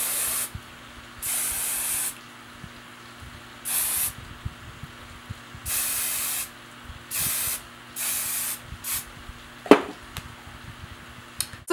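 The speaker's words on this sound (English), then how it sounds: "And then we can spray it again." Hairspray hissing in several short bursts of about a second each, separated by pauses with faint handling sounds, close and fairly loud.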